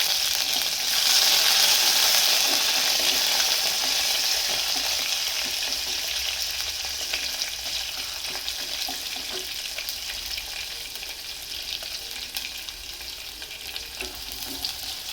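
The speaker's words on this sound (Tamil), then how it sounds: "தாளிப்பு வந்து பொரிஞ்சோன்னே வெங்காயம் இதோட கருவேப்பிலை ஆட் பண்ணிடுவோம்." Onion and curry leaves frying in hot oil for a tempering in a vegetable gravy, a steady bright sizzle that swells early and then settles into a constant hiss, close and continuous with no talking.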